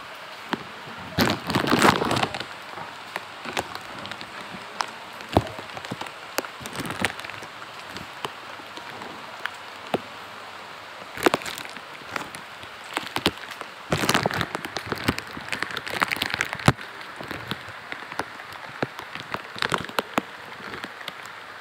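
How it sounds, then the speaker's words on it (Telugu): Rain falling outdoors while someone walks through it, a steady patter with irregular louder bursts of drops striking a close covering, heard alone with no talk. "వర్షం బాగానే పడుతుంది"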